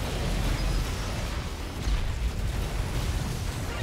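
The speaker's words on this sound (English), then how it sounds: "There's a rocket explosion or something just waiting for me to undrill." A rocket explosion in the game Assault Android Cactus, a dense, loud rumbling blast with a low boom that holds steady for several seconds amid busy game noise.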